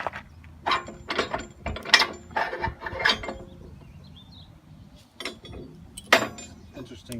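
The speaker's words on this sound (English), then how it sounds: "let's pull this pin out and tighten these bolts up" Bolts on a Titan Attachments fronthoe are tightened with hand tools, giving scattered metallic clicks, clanks and ratcheting bursts at close range, with faint talk in the pauses.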